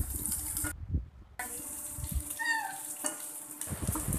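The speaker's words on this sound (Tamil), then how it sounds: "1 பெரிய வெங்காயத்தை நம்ம லேயராக கட் பண்ணி இதோட போட்டு நல்லா வதக்கிக்கோங்க" Onion sliced into layers frying in a pan with ginger and garlic, giving a steady close sizzle with stirring scrapes and a brief quiet gap near the start, alone without talk.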